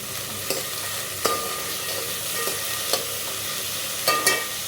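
Onions fry in a hot pan as vegetables are added, giving a steady sizzle broken by several sharp clinks and scrapes of stirring, with no talk.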